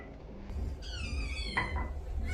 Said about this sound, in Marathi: हे दोन जे मांजराचे पिल्लं आहेत ते पण खूप गागत होते कारण त्यांना पण भूक लागलेली होती